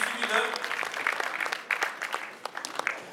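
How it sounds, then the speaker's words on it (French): Audience applause at a full contact kickboxing champions' evening, steady scattered clapping with a few cheers over a short stretch, and a voice speaking under the applause. "Applaudissements pour le jeune homme."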